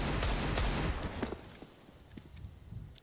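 Dense, rapid gunfire bursts in a CS:GO match, a loud volley of rifle shots up front thinning into scattered, fainter shots and game effects.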